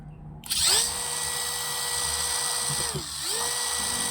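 A Masaru SCDI-155 20V cordless brushless impact driver spins up with a sharp motor whine, holds a steady high drone, then dips and revs back up, heard close and alone.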